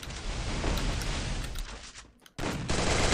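Gunfire in a mobile battle-royale shooter game: rapid bursts of automatic shots, close and loud, dropping out briefly to near silence before another burst kicks in.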